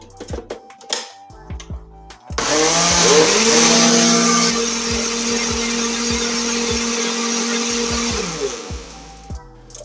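A blender whirs loudly for several seconds, mixing blueberry, banana and peanut butter with honey for a chocolate ice cream dessert, starting abruptly after a few knocks and holding a steady, close roar.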